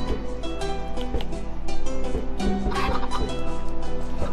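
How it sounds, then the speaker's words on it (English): Chickens clucking in the video game Minecraft, a dense steady flock chatter with repeated bird calls over continuous game music or ambience, loud and close. "I just hatched a little chicken."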